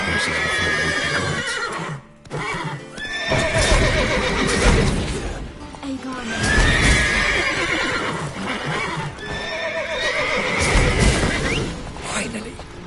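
Several horses in The Witcher 3 on PS5 whinny and neigh in loud, close bursts one after another, over clopping hooves and faint game clatter.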